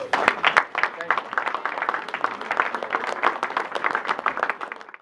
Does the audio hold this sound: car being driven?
no